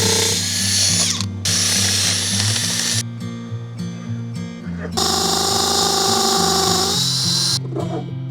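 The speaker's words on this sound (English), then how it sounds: "This is the axle that will support the tilting bridge, and I need to drill a hole for it through this." A power drill boring a hole through wood for the axle of a tilting bridge on a backyard mountain bike trail, loud and close, whining in long bursts with brief stops and speed changes between them.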